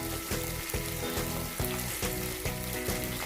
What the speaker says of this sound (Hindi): और अब हमने चिकन को ग्रेवी में भी कुक करना है